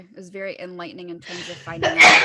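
A single sharp sneeze bursts out at the end, right after a person speaks in a close, clear voice.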